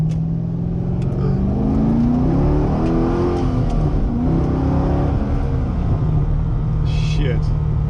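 The V8 of a 2009 Chevrolet Corvette C6 3LT with a manual gearbox drones loud and steady from inside the car while driving, its pitch climbing and falling through revs as someone talks over it.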